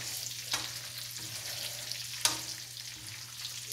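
Cassava cake double frying in hot oil gives a steady, close sizzle and crackle throughout, with a couple of sharper pops and no talk.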